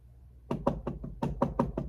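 Loud banging on an attic door in the ceiling, from the horror film Hereditary: eight heavy, evenly spaced thuds in quick succession after a brief quiet start, close and forceful.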